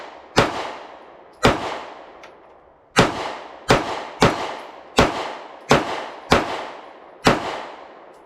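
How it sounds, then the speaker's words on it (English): Ruger Max 9 pistol fired at targets outdoors, nine sharp, loud reports with decaying tails, spaced irregularly about half a second to a second and a half apart. "Doing a little bit of target shooting with the Ruger Max 9 with the Ready Dot"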